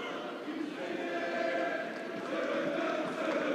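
Big crowd at a youth football final in a stadium, a steady dense roar of many voices held at an even level throughout, with a faint commentary voice beneath.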